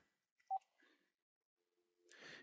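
Phone keypad tones as a number is entered, a few short separate beeps at moderate level, followed by a louder burst of noisy sound near the end.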